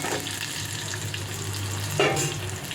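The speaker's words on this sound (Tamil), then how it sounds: "வெங்காயமும் பூண்டும் போட்டு நல்லா வதக்கியாச்சு." Onion and garlic sauté in a pan for a Tamil tamarind curry, giving a steady, moderate sizzle close by with a brief stir or splash near the end.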